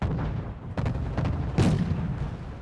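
Artillery fire in the wartime strategy game Wargame: Red Dragon, several dull booming blasts spaced irregularly over a rumbling battlefield bed, one heavier close shot near the end.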